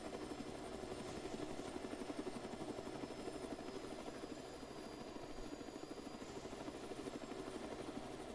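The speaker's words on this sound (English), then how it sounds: "Yeah, I'm on the chopper." Helicopter in a military video game, a continuous close rotor thump pulsing rapidly and evenly beneath a constant engine whine, with no talk over it.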